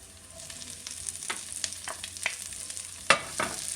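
Onions and mixed-colour sweet peppers frying in a pan for confetti corn, a soft continuous sizzle broken by repeated spoon scrapes and clicks as the vegetables are stirred, with one louder clatter near the end.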